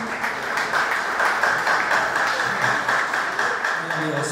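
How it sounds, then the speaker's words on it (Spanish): Congregation applause at a church service, a steady wash of clapping and voices that holds for several seconds under ongoing talk. "un aplauso por favor"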